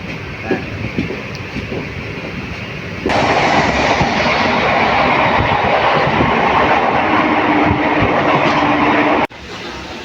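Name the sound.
local train departing Nalhati junction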